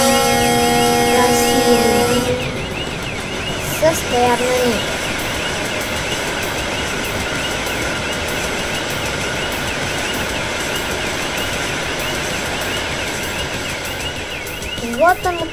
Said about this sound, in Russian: А вон и поезд едет.